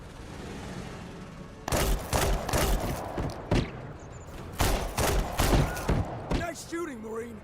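Gunfire in a video game played as a Marine, rapid bursts of shots and heavy thumps over a steady background rumble, loud and close, with in-game voices briefly heard near the end.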